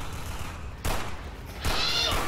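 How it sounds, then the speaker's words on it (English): In the zombie shooter Left 4 Dead 2, players fire guns at each other, with two sharp loud bursts of gunfire about a second apart over low game ambience. "Can we stop shooting each other?"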